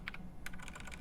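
Quick keystrokes clatter on a computer keyboard during a programming session, a short burst of close, crisp typing.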